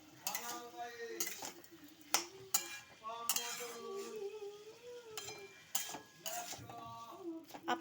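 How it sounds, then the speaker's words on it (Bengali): A spoon clinks and scrapes while stirring a potato and banana stem curry in a pan, faint, irregular knocks heard under a person talking. "আবার একটু নেড়ে নেবেন।"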